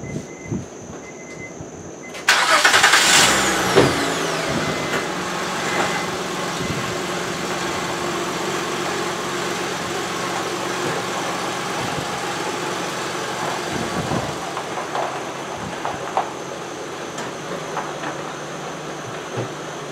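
Engine of a 2006 Honda Ridgeline starting abruptly after a short quiet stretch, then settling into a steady idle heard from close by, with a few knocks and clunks over the hum.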